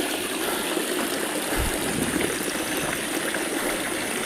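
Clear mountain stream water on the Lawu hiking trail via Candi Cetho flows steadily and loudly close by, a constant broadband rush with no pauses or voices.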